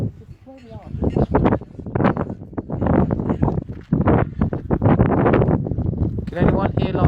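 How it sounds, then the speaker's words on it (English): Gusty wind buffets the microphone outdoors at a priory ruin, a loud rumbling roar that runs throughout under people talking. "It's pretty windy."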